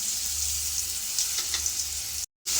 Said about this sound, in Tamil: கடுகு நல்லா பொரிஞ்சிருச்சுங்க. இப்போ இந்த சட்னி இதோடு சேர்த்துக்கலாம்.